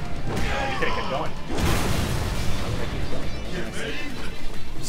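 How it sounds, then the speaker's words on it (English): Firecrackers burst in the fighting video game Dead or Alive 6 as dense crackling and booming blasts that fill the whole stretch, loud and overlapping, with voices under the noise. "So many firecrackers."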